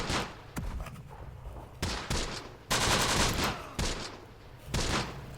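Bursts of gunfire from the WWII strategy game Close Combat, with loud rifle and machine-gun volleys clustered in several heavy bursts over a few seconds and no talking.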